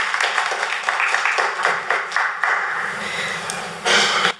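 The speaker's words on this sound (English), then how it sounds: "Yeah, that's worth a clap." Applause at a county council meeting on a year-round homeless shelter and supportive housing, a dense, steady patter of many hands clapping close by for several seconds, swelling briefly louder near the end.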